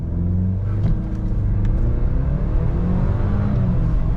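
A 2024 Ford Ranger turbo pickup launches from a brake rev at high density altitude, its engine roaring loud and steady as it accelerates hard through first gear, heard close from inside the cab.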